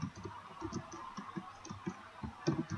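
A computer keyboard taps out Python code for a beginner's for-loop print statement, a steady patter of light, close clicks with an occasional firmer keystroke.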